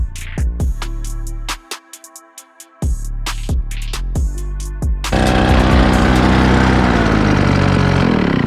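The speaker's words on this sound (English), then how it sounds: "he's scraping it with a trowel and blowing the dirt out of the joints" A gas-powered blower clearing dirt out of paver patio joints, loud and close, with the engine cutting in and out early on and then running at a steady high roar.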